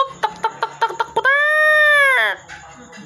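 A hen cackling after laying an egg, close by: a run of short, sharp clucks, then one long drawn-out call that rises and falls before fading into softer clucks.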